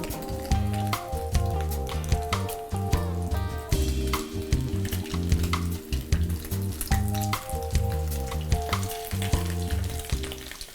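Chicken and green chile flautas fry in hot oil with a steady, dense sizzle and crackle that runs loud and unbroken throughout, with no talking.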